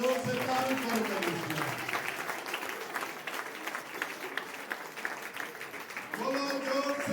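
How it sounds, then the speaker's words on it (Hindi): A church congregation claps together during a Sunday worship service, a dense sustained burst of applause filling the room, with a voice speaking over it at the start and end. "ताली बजाओ, जोर से ताली करो।"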